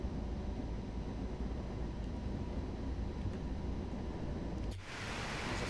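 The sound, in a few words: passing freight train in the video game Train Sim World 2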